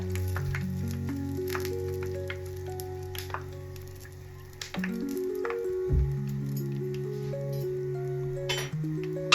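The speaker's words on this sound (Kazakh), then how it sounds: "Қуырып жатқан кезде қасықпен осылай үстіне майдан құйып жіберіңіздер." Pirozhki fry in hot oil while oil is spooned over them, giving a steady close sizzle beneath a sustained tonal background with shifting pitches.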